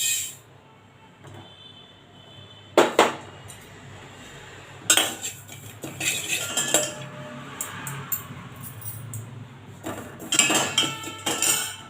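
Shahjeera (caraway) spices dry-roasting in a pan for homemade garam masala powder, with scattered metallic clinks and scrapes of a spoon against the pan, several sharp bursts over a quiet background.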